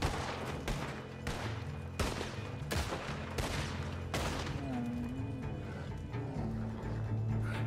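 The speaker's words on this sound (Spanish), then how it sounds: "¿En serio me estás disparando?" Video game gunfire rings out in rapid clusters of sharp cracks and bursts, loud and close over a busy background hum, tapering into scattered shots.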